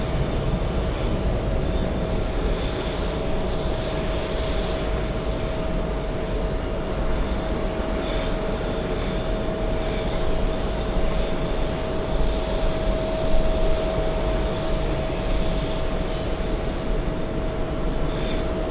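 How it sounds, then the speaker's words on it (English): A large Delta Air Lines Airbus A330 taxiing toward the runway for takeoff at a busy airport, a steady engine rumble and whine with a constant tone, continuous and moderately distant against broad background noise, with no speech. "Big A330 Delta Airlines taxiing to the runway for takeoff."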